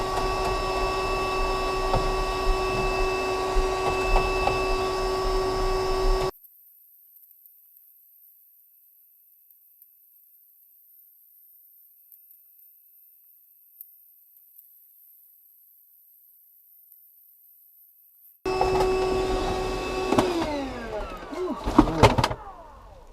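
A vacuum cleaner pulls dust off a restricted HVAC coil, a steady whining motor drone near the mic. It cuts out to a long silence, then resumes with scraping and rattling bursts from the nozzle against the coil.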